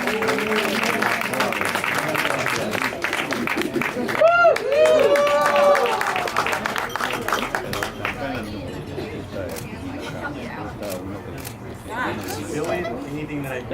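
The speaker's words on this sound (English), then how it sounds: "please another round of applause for your maid of honor, Stacy Crespo." Wedding guests applaud the maid of honor at a reception, a steady roar of clapping and crowd chatter through the whole stretch, with a whistle-like tone rising in the middle and the noise easing slightly toward the end.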